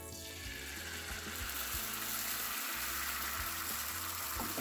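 An egg goes into avocado oil in a hot skillet, and a soft, steady sizzle rises and holds. Faint clicks and low mechanical ticking sit underneath, and the whole sound is fairly quiet.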